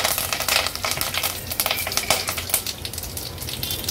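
Loud, steady crackling and popping of mustard seeds, cumin, asafoetida and curry leaves spluttering in hot oil, close up, with no voices.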